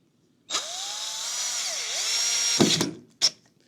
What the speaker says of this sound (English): I'll take two of these screws